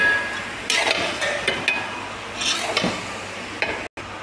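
Poha is stirred with spices in a pan, giving a soft sizzle under several scraping strokes of a utensil against the metal, close by and without speech.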